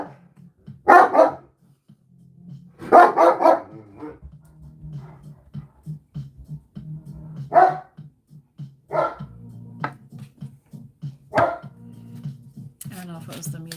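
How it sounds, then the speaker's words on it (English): A dog lets out about five loud, separate barks spaced a few seconds apart over a low, steady background hum. "Set the dog off."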